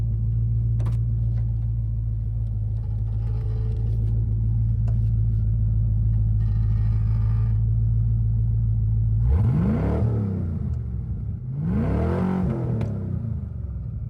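A 1994 Ford Mustang GT 5.0 idling loud with a deep rumbling exhaust, then two hard revs that rise and fall in pitch, close and powerful, no talking.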